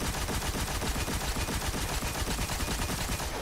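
Thunderlord machine gun fitted with a Linear Compensator, fired in a video game: a loud, sustained stream of rapid, evenly spaced shots with no pauses and no talking.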